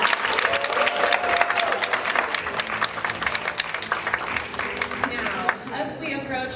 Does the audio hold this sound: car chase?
no